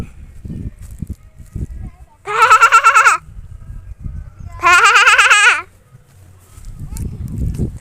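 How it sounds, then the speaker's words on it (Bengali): Two loud, wavering bleats from a mother goat a couple of seconds apart, standing out over quieter outdoor rustling and distant voices on farmland. "মা ছাগল ডাকছিল।"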